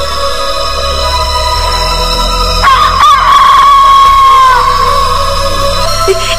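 A cartoon hen squawks as a fox seizes her by the neck, a loud, strained cry rising abruptly midway and wavering for a few seconds over a steady music-like background.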